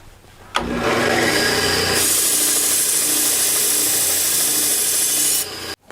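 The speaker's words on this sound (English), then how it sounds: "So I just got to sand it to the mark." A golf club shaft being sanded down to a marked line during a reshaft, a loud, continuous rasping scrape that starts abruptly and runs steadily for about five seconds before cutting off.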